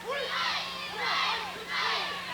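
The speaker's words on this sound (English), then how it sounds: "Big crowd on hand for a Monday night at the Sports Center" A big crowd roars and shouts in waves at a high school basketball game in a sports center, loud and close throughout.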